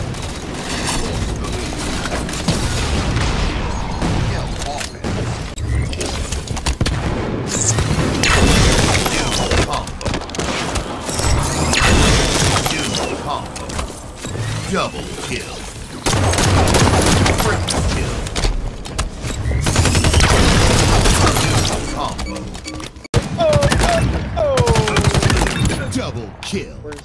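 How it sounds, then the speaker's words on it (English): Rapid assault rifle fire in the video game Halo, with sustained bursts and explosive thumps over a continuous dense battle din, loud and close throughout, with players talking underneath. "You just fucking sprays me down with an assault rifle."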